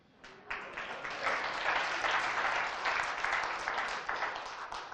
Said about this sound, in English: It feels nice being applauded for drinking.